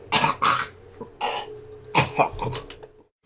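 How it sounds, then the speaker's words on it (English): A man coughs repeatedly in harsh, wet bursts with throat clearing, several close, loud hacks in irregular clusters, alone without talk. "I've never coughed like that."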